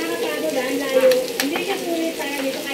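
Garlic frying in a pan for chicken kaldereta, a steady close sizzle with faint stirring scrapes, running continuously with no break.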